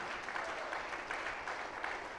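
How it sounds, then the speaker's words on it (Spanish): A church congregation applauds in celebration during a Spanish-language worship service, a steady wash of many hands clapping at moderate distance, fairly quiet and continuous throughout. "Fuerte aplauso, fuerte celebración a nuestro Dios."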